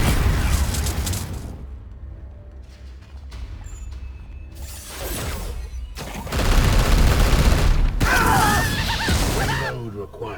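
Focused volleys of gunfire in Warhammer 40k: Chaos Gate - Daemonhunters, loud bursts of shots and booming impacts in separate waves with quieter gaps between, and someone talking over parts of it.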